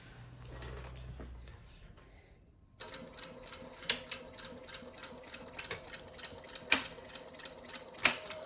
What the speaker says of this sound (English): Let's show you how the machine works.